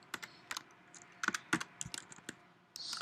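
Code is typed on a computer keyboard in quick, irregular bursts of close, crisp key clicks with short pauses, quiet overall.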